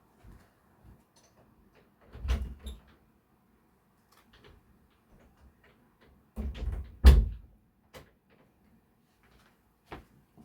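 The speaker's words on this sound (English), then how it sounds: "I'm gonna lock that door" An interior door being shut and locked, heard as a few separate knocks and clacks near 2.3, 6.5 and 7.1 seconds, each followed by a short rattle, with quiet gaps and faint ticks between them.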